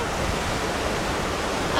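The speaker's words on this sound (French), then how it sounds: "avec des vagues." Sea waves wash onto the shore at San José on Cabo de Gata in Andalusia, a broad steady roar of surf with wind rushing past the microphone, heard briefly without voices.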